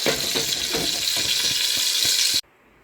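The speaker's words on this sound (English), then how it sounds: "you can hear that sizzle" Loud, steady broadband hiss of a T-bone steak sizzling in a hot cast iron pan with faint scraping ticks, cutting off abruptly near the end to near silence.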